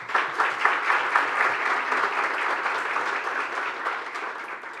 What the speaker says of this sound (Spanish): Este aplauso es para ustedes.